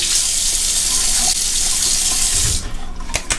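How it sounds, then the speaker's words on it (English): Hot water runs from a bathroom sink tap in a steady, loud rush that cuts off near the end, followed by a few faint splashes and drips. "So turn on the water and just several splashings of hot water on your face"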